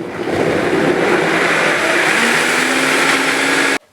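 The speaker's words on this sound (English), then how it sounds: "I'm using a Vitamix, but you can use any kind of blender or food processor. So we're just going to mix it up until there are no chunks." A Vitamix blender churning breadfruit coconut cream pie filling runs at a loud, steady roar close by, then cuts off abruptly near the end.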